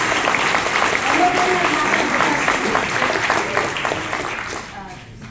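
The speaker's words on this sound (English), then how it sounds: "Let's give a round of applause for our 2 gentlemen here." An audience at a business conference claps in steady, dense applause that stays full for about four seconds before tapering off toward the end.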